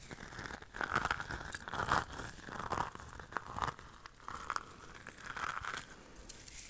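Plastic hair beads crunch and crinkle close up in a steady run of crisp, textured bursts, handled slowly in a quiet ASMR setting with no talking.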